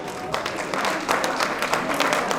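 Steady applause from the audience at a trail race podium ceremony, a dense, continuous wash of many hands clapping together throughout, fairly close and even in loudness.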